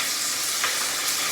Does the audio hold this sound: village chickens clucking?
no